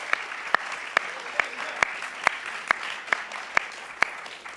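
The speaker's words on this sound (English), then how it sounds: "Round of applause, thank you, thank you." Crowd applause at a Volt Europa general assembly, with steady hall clapping and a few sharp, evenly spaced claps standing out in a regular beat throughout.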